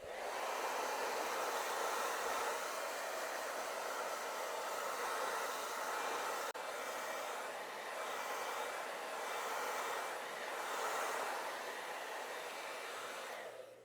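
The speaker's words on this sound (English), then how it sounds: "We'll get the hair dryer, get it thoroughly dry so we can apply a second coat." A hair dryer blows continuously at close range, drying a coat of repair finish on a leather seat, a loud steady whoosh that shifts slightly in tone as it is moved around.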